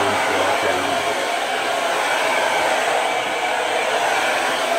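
A hair dryer on a warm setting blows air onto a beard, producing a loud, steady whooshing roar close by that runs without a break for the whole stretch.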